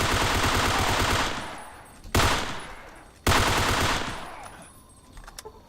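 Bursts of rapid automatic fire from a light support weapon in Fallout 3, a long loud volley followed by two sharp shorter bursts that trail off, heard alone.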